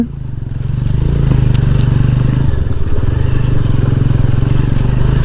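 A motorcycle rides on a jungle trail toward Raika hill, its engine loud and close, thrumming steadily with rattles and scrapes from the rough ground, and a voice is faintly heard.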